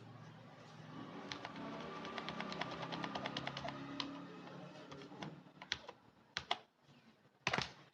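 Typing on a slightly faulty computer keyboard during a lecture, with a quick run of rapid close key clicks followed by a few louder separate taps, and no talk over them.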